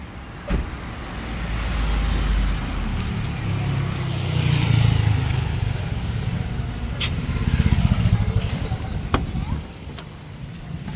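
A family car's engine runs with road and cabin noise, a steady hum that swells slightly midway, with a voice speaking over it at times.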